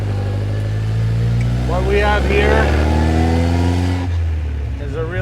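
A 1955 Austin Healey 100S tribute engine drones steadily while driving, its pitch climbing and falling with the revs, loud and close throughout, with someone talking over it.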